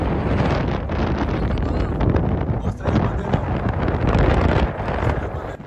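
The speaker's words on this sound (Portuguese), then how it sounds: "E o vento realmente estava machucando demais." Heavy wind buffeting a cyclist's microphone on a long night road ride, a loud constant roaring rumble with gusting swells throughout.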